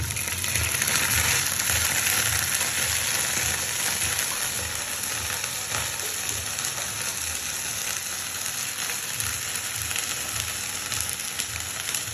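Garlic paste and onion fry in oil in a pan, giving a steady, even sizzle and crackle that runs unbroken for about twelve seconds with no talking.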